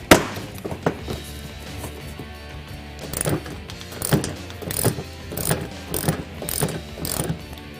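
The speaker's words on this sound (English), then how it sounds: "you're going to need a 7/32 socket to remove those." A ratchet fitted with a 7/32 socket removes bolts on a Ford Mustang during a headlight swap. Close, loud bursts of rapid pawl clicking repeat several times with short pauses between them.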